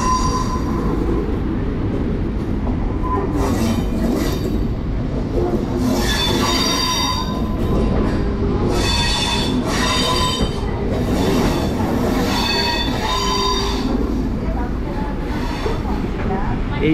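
Wheels of a slow local train shriek and squeal continuously as it takes a sharp U-turn curve on the Belur Math line. The sound is loud and close, with the rumble of the carriage underneath and voices talking over it.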